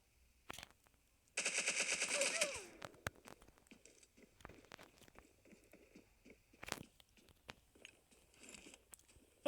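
Rapid automatic gunfire in a video game, one dense burst about a second long followed by scattered single shots and softer in-game clatter, with no talking.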